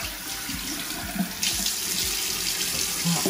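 Tap water runs steadily into a bathroom sink while sunscreen is washed off the face, with splashing and small shifts as hands move under the stream, close and fairly loud.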